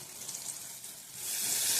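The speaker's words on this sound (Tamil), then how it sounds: "இந்த டம்ளரில் ஒரு டம்ளர் தண்ணியை ஊற்றிடுவோம்" Water poured into a hot pan of egg chutney makes a soft, faint sizzle that swells into a louder, steady hiss partway through, with no talk.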